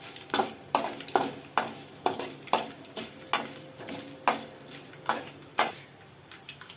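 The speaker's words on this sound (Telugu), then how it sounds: "కొంచెం దోరగా ఏగనివ్వాలండి." Garlic fries in hot oil for a tempering with a sharp sizzle and rhythmic spoon strokes against the pan, roughly two or three scrapes each second, close and fairly quiet.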